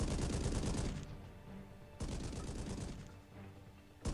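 Bursts of gunfire from the mobile game Call of Duty: Heroes, two sustained volleys of rapid shots separated by a brief lull, loud and close with no talking.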